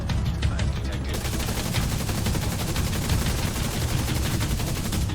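Dense, continuous automatic gunfire in The Division 2, loud and unbroken for several seconds.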